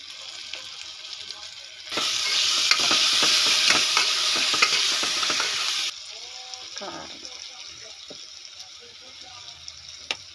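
Spices, chili powder and salt are stirred into a bottle gourd and horse gram curry in a pan, giving a loud scraping, sizzling stretch in the middle with quieter clinks and faint sizzle on either side.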